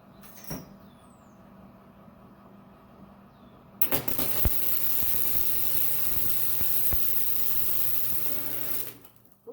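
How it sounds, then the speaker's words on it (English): Welding the rear tubes on a Jeep TJ overland build, a steady crackling hiss that starts abruptly partway through and runs for about five seconds, loud and close, with a few sharp clanks at its start and no talk. "Weld it some more now."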